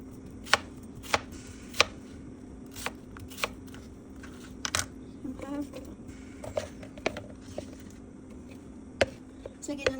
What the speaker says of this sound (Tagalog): magkakat naman tayo ng isang onion